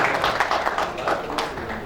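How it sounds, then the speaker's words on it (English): An audience applauds at a large auto dealers' federation event in Bhopal, Madhya Pradesh: dense, steady clapping that fills the short moment, with some crowd noise mixed in. "I think a big round of applause to all of you and to FADA"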